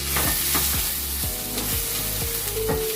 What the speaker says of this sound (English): Now fry it until the coconut starts frying